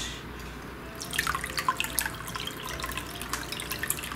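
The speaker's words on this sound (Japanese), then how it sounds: "一応はちゃんとした滝になってますね" A small homemade waterfall trickles into a medaka fish biotope, a soft continuous splashing with light dripping patter that starts up and keeps flowing evenly.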